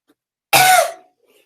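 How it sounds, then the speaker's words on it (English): One short, sharp cough from a single person, close and loud, followed by silence. "Don't look at me when I cough."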